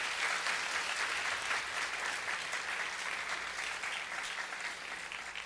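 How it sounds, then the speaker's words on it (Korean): Steady applause from a church youth gathering fills the room, dense and even throughout, with no speech over it. "우리 성서진이 팀에서 박수 한번 보낼까요?"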